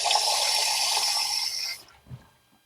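Tap water runs steadily and loud for nearly two seconds, used to cool a Coleman 521 military stove's hot cap gasket, then cuts off, leaving a faint clunk and quiet.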